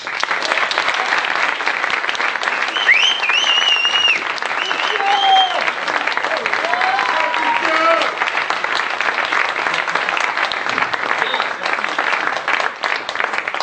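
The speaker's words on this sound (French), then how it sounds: "On peut l'applaudir bien fort." An audience applauds after a past-life regression hypnosis demonstration, loud sustained clapping with some cheers and voices rising through the crowd.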